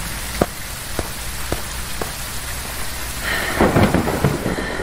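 Stormy weather in Phasmophobia: steady rain patters throughout, a few sharp cracks come early, then a louder rolling rumble of thunder builds over the final seconds.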